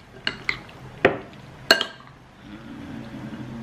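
Leftover rice is fried with egg in a pan, with four sharp metallic clinks of utensil against pan spaced unevenly over a couple of seconds, followed by a soft, steady sizzle close by.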